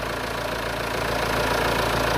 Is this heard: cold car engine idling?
yes